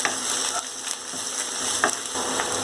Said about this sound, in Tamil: இஞ்சி பூண்டு விழுது அதை போட்டு பச்சை வாசம் போகிற முடிய அதை வதக்கிக்கணும்